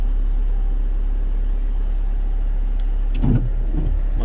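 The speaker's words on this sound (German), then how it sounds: "Ich mache mal die Innenlüftung auf" Steady, even blowing of the interior ventilation fan in a VW Crafter van, running over a low engine hum, with a short soft thump near the end and no talk.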